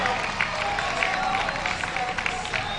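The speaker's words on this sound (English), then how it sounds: "Give him a big round of applause." Audience applause and crowd noise in an arena during a deadlift attempt at a USA Powerlifting raw national championship, steady and moderately loud throughout with a commentator's voice audible over it.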